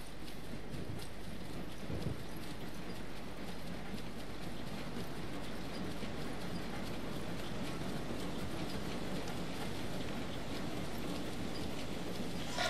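A train rumbles past a bridge in The Saboteur video game in a dense, steady roar with rhythmic clattering over the rails, loud and continuous throughout.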